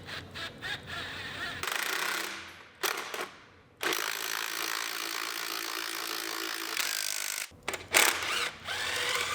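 A ratchet drives the bolts of a starter into a Honda Civic engine bay in quick bursts of clicking, with short gaps and a few metallic knocks between runs, up close with no talking.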